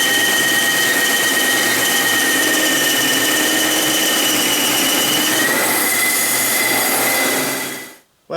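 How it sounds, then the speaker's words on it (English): A bandsaw cuts through wood for a traditional workbench, the blade burning the timber, giving a loud, continuous screeching whine with squealing overtones that runs steadily before cutting off abruptly near the end. "Well, something wasn't quite right there with the bandsaw"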